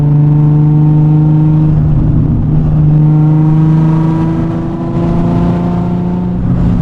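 A Nissan 350Z engine pulls hard under acceleration, a loud, close and sustained tonal drone that steps up in pitch through the gears with a brief dip partway.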